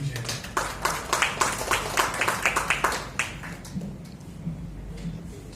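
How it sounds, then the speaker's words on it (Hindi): Audience clapping to welcome a speaker at a tourism promotion event for the Andaman Islands: a small group of distinct, fairly close claps in a quick rhythm that thins out and fades after a few seconds. "तालियों से उनका स्वागत कीजिए।"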